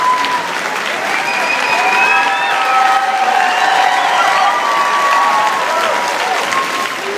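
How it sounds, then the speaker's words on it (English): A large crowd at Minecon stands and claps as people walk onto the stage, loud and sustained applause with scattered cheers, while nearby voices talk over the clapping. "There was this crowd of people who just stood up and started clapping as we all walked"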